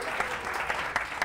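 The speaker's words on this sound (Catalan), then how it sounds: "i t'emportes aquest aplaudiment" Brief applause from a studio audience on a Catalan TV spelling quiz show, a short burst of moderately quiet clapping with a few distinct claps standing out.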